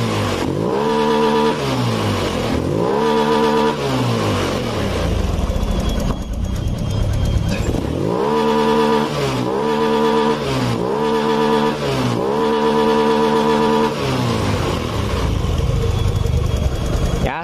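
A Honda Beat scooter engine revs repeatedly in bursts, each climbing to full throttle and dropping back, with a rough, bogging note at the top; loud and close, without talk.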